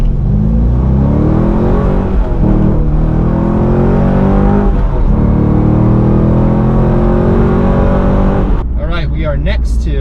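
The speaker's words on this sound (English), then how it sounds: "So there is a little bit of road noise." Steady low road and tire roar inside a Corvette C5 Z06 running new wheels and tires, a continuous drone with engine hum beneath, loud and close throughout, easing near the end.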